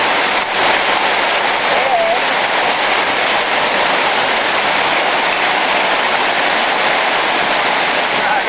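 Hard rain pours outdoors in a loud, steady, dense hiss on surfaces, continuous and close with no breaks.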